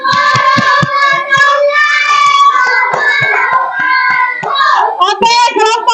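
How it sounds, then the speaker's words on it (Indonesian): Children in a classroom clap in a few sharp rhythmic bursts while lively young voices and singing-like chatter carry loudly over and between the claps. "Tepuk tangan."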